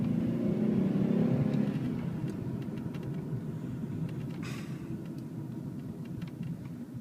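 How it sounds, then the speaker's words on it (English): A 1990 Chrysler New Yorker Landau with a 3.3 liter V6 running, a steady low engine drone and road rumble heard from inside, slightly louder at first then settling to an even hum. "Even performance-wise, the motor runs great."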